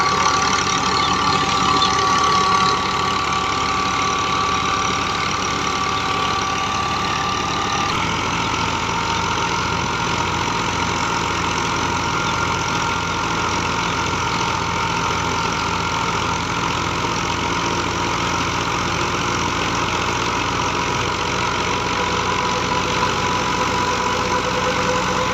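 A Massey 240 tractor engine runs steadily near wheat harvesting with a thresher, a loud continuous idling drone with a slight shift in tone partway through, no voices.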